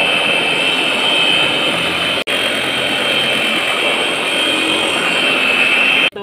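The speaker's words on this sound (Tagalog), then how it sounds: "Tapos i-blender natin to guys." A loud, continuous high-pitched whirring of a blender motor blending lemongrass and ginger runs steadily, with a brief cutout partway through and another near the end.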